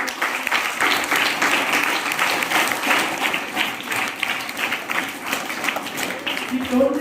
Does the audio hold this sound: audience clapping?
yes